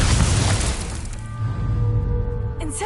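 A fire spell blasts in Hogwarts Legacy, a loud booming whoosh that roars steadily for nearly three seconds with a sustained crackling rumble, game music tones ringing underneath.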